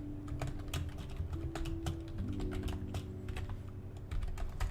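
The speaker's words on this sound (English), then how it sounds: "I should mute my microphone while typing so people can't hear how often I have to hit backspace" Rapid typing on a computer keyboard, a dense stream of sharp, close key clicks with irregular rhythm over a steady low hum from a game playing in the background.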